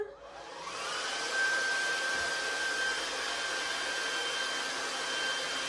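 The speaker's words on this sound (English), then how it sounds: "So we put the hairdryer, if I lean it on the table, I'm just going to give it a slight tilt. I'll switch it on." A hair dryer, leaned and slightly tilted on a table, switches on and blows a steady, loud, continuous whooshing hum that holds evenly to the end, with no talking.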